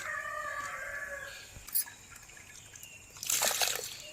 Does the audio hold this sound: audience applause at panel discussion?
no